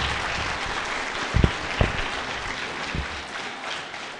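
A packed audience at a refugee resettlement summit applauds a speaker with steady, dense clapping that holds throughout, broken by a few louder bumps.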